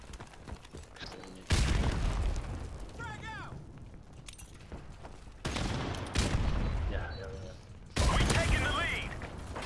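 Sharp, heavy rifle blasts from a sniper in Call of Duty: Modern Warfare on the Bog map, several loud booming shots spaced across the clip with game ambience and brief voice chatter between them.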